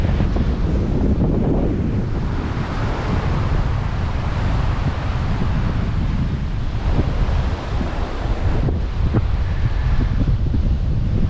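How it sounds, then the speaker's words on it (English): Strong wind buffets the microphone in a constant low roar, with surf washing in the background, on the beach at Ngkala Rocks, K'gari (Fraser Island), Queensland. "It's pretty windy here, you probably can't hear me."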